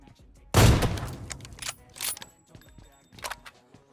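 A sniper rifle fires in PUBG Mobile with one sharp, loud shot, followed by several quieter in-game impacts and clicks scattered over a few seconds.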